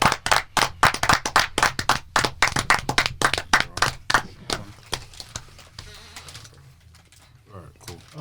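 A podcast group breaks into lively applause for a guest, with several people clapping in a fast, dense burst that tapers off into scattered claps while voices talk over it.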